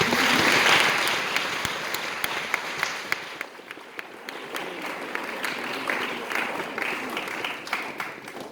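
Crowd applause for a sponsor at a school Shakespeare competition in Sri Lanka, loudest at the start and then settling into sustained clapping with sharp individual claps.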